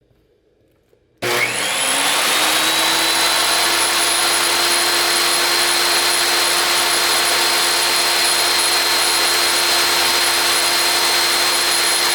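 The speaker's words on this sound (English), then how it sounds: "Here I'm cutting the wood for the trim." A power saw starts abruptly after a second of near silence, then whines loud and steady as it cuts wood for trim on an indoor RC crawler course diorama, its high tone holding constant to the end.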